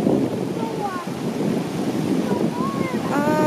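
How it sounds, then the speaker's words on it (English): Low-tide sea waves wash in a steady broadband rush on the Sea of Cortez, with wind buffeting the microphone and voices talking briefly over the surf. "There's a low tide sea."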